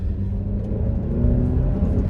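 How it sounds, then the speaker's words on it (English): Engine of a 2023 Alfa Romeo Stelvio Veloce, a low, steady rumble with mild revving that swells slightly louder partway through, heard close with no talk. "I think the engine sounds a bit bland, and that they could have changed, absolutely, to give it more of a growl"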